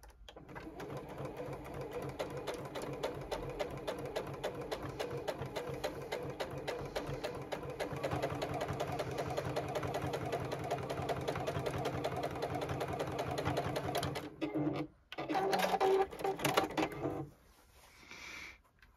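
A JUKI sewing machine sews a quarter-inch seam on hat fabric, running at a steady rapid chatter for about fourteen seconds, then stopping briefly and making a shorter final run, close and unaccompanied by talk.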